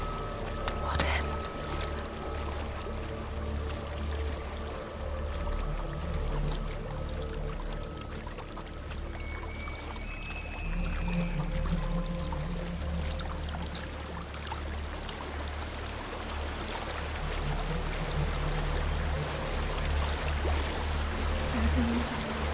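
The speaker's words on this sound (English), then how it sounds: "There's a waterfall." A steady rushing waterfall in the video game Hellblade: Senua's Sacrifice pours continuously throughout, a broad watery wash with occasional faint tones and voices over it.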